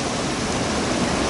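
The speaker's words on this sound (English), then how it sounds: "it's still raining pretty hard and real windy still" Heavy rain driven by strong wind after a storm makes a dense, steady rushing hiss with no pauses or other sounds.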